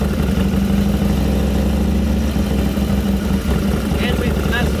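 Harley Dyna motorcycle engine idling after a 42mm carburetor swap, a loud close steady rumble with a lumpy low pulse throughout, with people talking over it.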